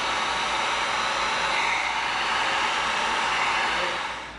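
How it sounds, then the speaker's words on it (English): A heat gun blows a steady, loud, hissing rush of hot air over EVA foam to seal its surface, continuous for several seconds before tapering off slightly. "now we're gonna bring in our heat gun"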